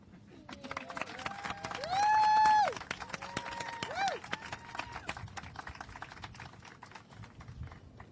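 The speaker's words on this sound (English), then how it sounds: "Can we give Kim, the chair of our commission, another big round of applause?" An outdoor audience applauds at a beach ceremony at Granada Beach, with scattered claps, whistles and cheering voices rising and falling, partly mixed with nearby talk.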